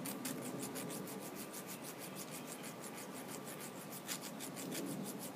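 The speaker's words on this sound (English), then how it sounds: "we'll just sharpen that." A hand file sharpening a Harbor Freight ship auger drill bit, rapid repetitive rasping strokes in a steady scraping rhythm, close and fairly quiet, continuing throughout without speech.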